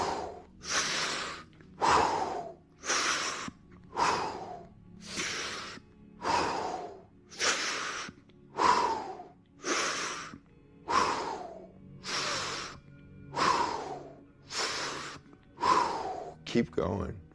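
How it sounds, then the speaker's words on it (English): Deep, rapid breaths are drawn in and pushed out in a steady rhythm during a superventilation breathwork exercise, about a dozen loud, close, forceful cycles, each gasping inhale followed by a rushing exhale. "we're now going to take the 50 biggest breaths you've ever taken in your life"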